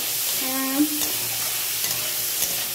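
Fried rice fries in a pan with a steady sizzling hiss, while a brief tonal hum and a few faint clinks sound under it.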